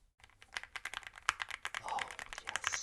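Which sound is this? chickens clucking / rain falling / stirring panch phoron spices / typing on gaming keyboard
typing on gaming keyboard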